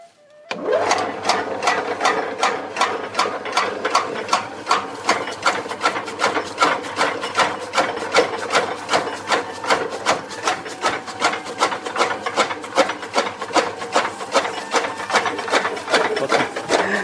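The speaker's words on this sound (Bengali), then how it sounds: "আচ্ছা, এটা কাজটা কেমনে করে একটু দেখান তো, দেখি আমরা গাছটা কেমনে কাটে" A machine cutting through a tree on a farm runs with a steady, rapid rasping chatter, loud and close, continuing without pause.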